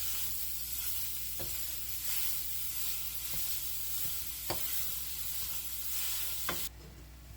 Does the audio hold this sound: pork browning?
yes